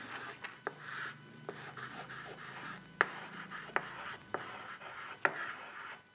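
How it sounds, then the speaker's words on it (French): A pen writes numbers by hand on paper, soft scratchy strokes and sharp taps in an irregular rhythm, quiet and close, with no voice over it. "j'écris 1000, toujours je mets mon petit tiret, je continue,"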